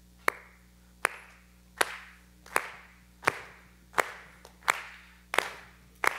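Hands clapping in a church service: eight or nine sharp, loud claps at a slow, even rhythm, each with a short ringing tail in a reverberant room, with no talking.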